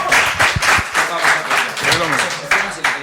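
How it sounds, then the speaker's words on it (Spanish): Audience applause for the speakers at a tribute event, loud uneven clapping in several bursts, with a voice talking over it. "un aplauso fuerte para nuestros ponentes"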